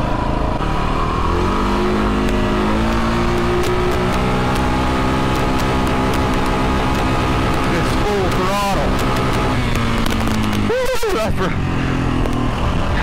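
Honda Rancher ATV fitted with a snorkel revs hard in a flooded swamp, the engine note rising and falling through several loud throttle bursts, with a person talking over it.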